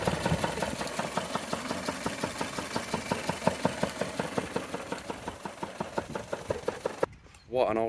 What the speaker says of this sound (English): It's running on one cylinder.